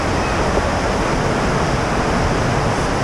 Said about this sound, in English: Another waterfall.